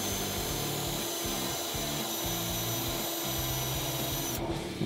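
Drill boring out spot welds in a car's sheet-metal firewall, a steady, close grinding whine with rhythmic bite as the bit chews through the metal.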